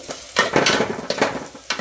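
Chopped onions and green chilies fry in a pan with a steady close sizzle, broken by scraping stirs of a utensil against the metal.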